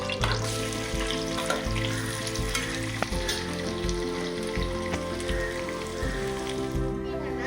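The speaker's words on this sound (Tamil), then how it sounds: "நெக்ஸ்ட் நம்ம ஆனியன் எடுத்து உள்ள போட போகிறோம்." Sliced onions frying in hot oil for a Bai Kadai style chicken dum biryani, a dense steady sizzle with occasional stirring scrapes, close and continuous, with background music.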